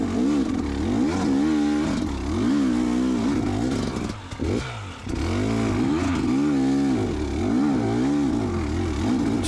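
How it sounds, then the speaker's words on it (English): A dirt bike engine revs in repeated rising and falling bursts, with a short dip and clatter as the rider works the clutch over rocks on a woods trail at Prospect OHV. "Just working the clutch and the RPMs of the motor, just trying to keep that back tire from spinning."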